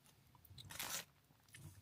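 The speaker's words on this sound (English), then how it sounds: "Oh, you could hear that crunch." A sharp, close crunch of teeth biting into an American candy chocolate bar with a crisp, Butterfinger-like filling, one loud bite in the middle followed by quieter chewing crackles.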